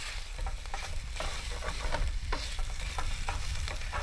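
Bacon-style food fries in its own grease in a pan at a campsite, a close, steady sizzle with crackling pops and occasional scraping stirs throughout.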